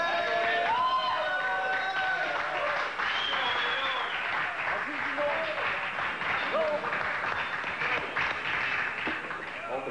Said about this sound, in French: Oh, la foule, naturellement, qui semble soulagée.